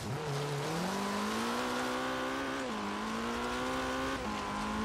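A little hatchback tearing along an offroad rally route in Forza Horizon 3, engine revving hard and climbing through gears with brief shift dips, loud and continuous with no voices.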